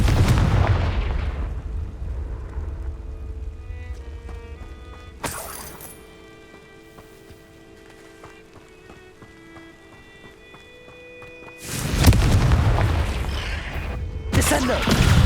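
Confringo blasting spell explosions in the video game Hogwarts Legacy, loud booming bursts with rumbling tails, one at the start and heavier blasts near the end, quieter ambient tones between.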